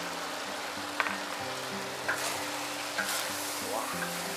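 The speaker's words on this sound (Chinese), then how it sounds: "蒜苗下锅，再来点花椒苗，最后再勾滴点薄芡。" Garlic sprouts and Sichuan pepper shoots stir-fry in a wok for Sichuan home-style tofu, giving a steady close sizzle broken by a few sharp spatula clicks and scrapes.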